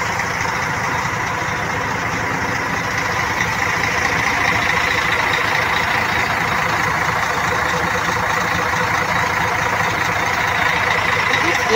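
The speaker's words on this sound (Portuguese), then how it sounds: "Vim aqui pra trás aqui escutar o ronco do motor do bichão." A large truck's engine, heard from the back of the vehicle while travelling to São Paulo, gives a steady, loud, low rumble without pause throughout.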